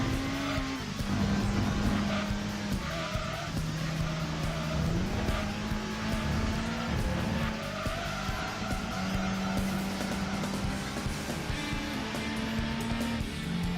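A light car in the racing video game Gran Turismo 2 slides through corners, its tires squealing in long wavering tones over a buzzing engine note that shifts pitch with gear changes, loud and continuous.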